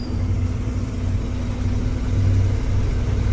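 A vehicle engine rumbles steadily while driving along a road, a continuous close low drone that swells slightly near the end, with no talking.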